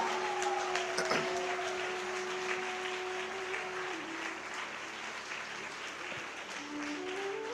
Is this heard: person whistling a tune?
no